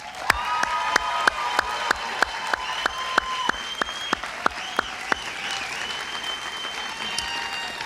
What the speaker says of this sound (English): A round of applause for our nonprofit professionals